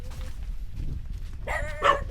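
A large dog barks a couple of times toward the end, fairly close, over a low outdoor rumble with faint voices earlier.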